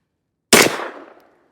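A single sharp gunshot from a Ruger LC Carbine chambered in 460 Rowland, firing a 250-grain bullet, cracks out after a moment of silence and decays over about three-quarters of a second.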